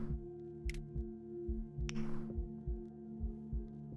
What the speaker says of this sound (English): Heartbeats are going.